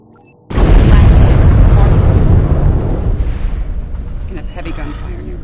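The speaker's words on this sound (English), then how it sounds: "You can have heavy gunfire nearby." Heavy gunfire and explosions from a Star Trek video game battle start with a sudden loud boom. A dense roaring barrage follows, slowly fading to a rumbling tail with scattered crackles.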